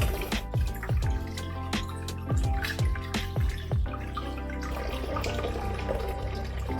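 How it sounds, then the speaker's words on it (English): Cool tap water runs and splashes while boiled eggs are peeled beneath it, with irregular drips and small knocks of shell over a steady watery hiss. "Start peeling them under some cool water."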